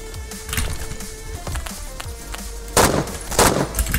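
Bursts of rapid gunfire and a sharp explosion from a thrown grenade in the Phantom Forces first-person shooter game, scattered shots early on and two louder blasts near the end.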